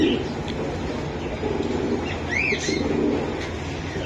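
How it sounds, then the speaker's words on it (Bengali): Pigeons of Giribaz and Gola breeds at a pigeon seller in Bangladesh coo softly and repeatedly over a noisy background, with a few chirps and faint wing flaps. "কবুতর গুলা দেখেন আপনারা"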